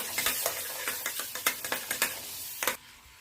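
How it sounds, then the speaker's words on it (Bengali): Butter melting in a pan for pepper paneer gives a steady crackling sizzle, broken by a quick run of scraping strokes as it is stirred, close and continuous before cutting off suddenly near the end. "বাটারটাকে একটু গলিয়ে নেব।"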